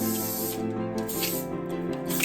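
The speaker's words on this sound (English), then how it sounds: "Before we do that, we're going to spray those sections." Hairspray hisses onto sections of hair in close, continuous bursts over a steady background hum.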